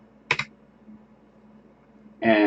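Computer keyboard keys clicking in two short bursts separated by a pause, close and crisp with no talking.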